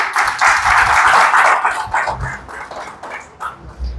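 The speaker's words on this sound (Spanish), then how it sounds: "¿Cuántos le dan un aplauso al Señor?" A church congregation applauding during a pastor's sermon, loud continuous clapping that thins out into scattered claps over a few seconds.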